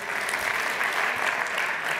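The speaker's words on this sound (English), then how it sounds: "Let me give you guys my own round of applause" Audience applause at a business launch event, a brief wash of steady clapping at moderate volume with no clear voices.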